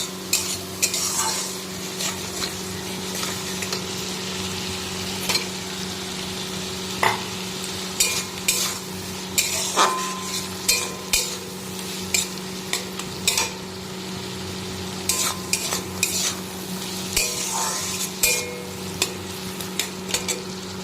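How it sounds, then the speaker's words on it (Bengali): Prawns and spice paste sauté in a pan while a spoon stirs and scrapes them in irregular strokes, over a low steady hum and a soft sizzle. "এই দেখো চিংড়ি মাছটা আর মশলাটা ভালো করে কষানো হয়ে গেছে।"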